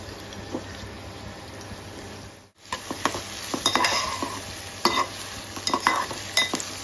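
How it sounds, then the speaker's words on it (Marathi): Onion going into hot oil for a Koli-style clam curry, first a low sizzle, then after a brief pause a livelier crackle with repeated spoon scrapes and stirring clatter close by. "तेल गरम झालं की आपल्याला कांदा टाकायचा"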